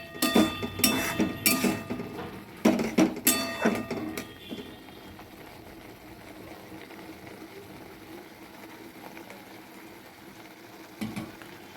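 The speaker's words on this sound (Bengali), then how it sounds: "মশলাটাকে আরেকটু কষাবো" Spice paste frying in a pan for a vegetarian Bengali cauliflower curry with cashews, a quick burst of clattering stirs and scrapes against the pan, then a low sizzle alone.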